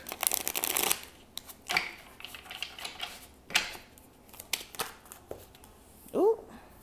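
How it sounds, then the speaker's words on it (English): A new, stiff deck of tarot cards being shuffled in several short riffling bursts, close and crisp, with a voice talking between them. "harder to shuffle. This is a new deck."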